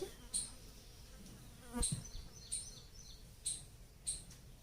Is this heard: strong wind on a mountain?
no